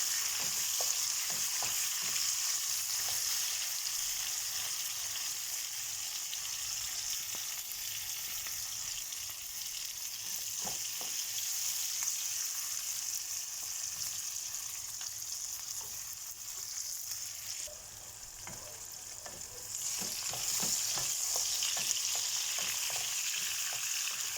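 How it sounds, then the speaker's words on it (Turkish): Vegetables frying in a pan, a bright steady sizzle with occasional soft stirring clicks, heard alone and fairly quiet, briefly dipping before resuming. "Ara ara karıştıralım ki sebzelerimiz hepsi aynı anda kızarsın."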